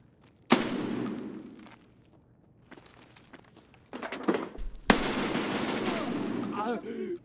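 RFB rifle gunfire in Escape from Tarkov: a sharp loud shot with a ringing tail, scattered quieter rattles, then another loud burst of rapid overlapping fire with clinking metallic noise after it.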